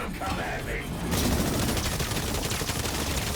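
Enemy gunfire in the ExoPrimal dinosaur shooter, a sudden sustained burst of rapid rattling shots that begins after a brief quieter moment and continues to the end.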